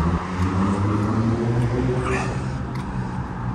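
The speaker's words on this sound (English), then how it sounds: "Sorry for the noise, I'm on a busy street," Busy city street traffic in Denver, Colorado: a dense, continuous roar of passing vehicles with engine rumble, loud and close, and no voices.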